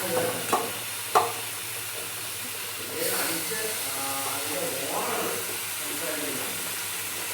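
Chopped mushrooms sizzle and get stirred in a pan, a soft steady frying hiss with a few sharp scraping clicks near the start, fairly quiet and close.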